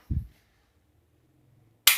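Toy pistol loaded with a five-shot cap ring, fired twice: a sharp, loud crack near the start, then near-silence with faint handling, and another sharp bang at the very end.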